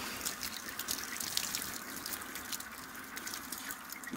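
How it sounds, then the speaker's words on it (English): Water poured from a glass Pyrex container over mashed grains in a Robobrew Brewzilla to sparge a Kolsch beer, a steady close splashing trickle that runs continuously without pause. "here's the leftover water that I'm going to use to sparge"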